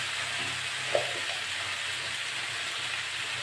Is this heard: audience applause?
no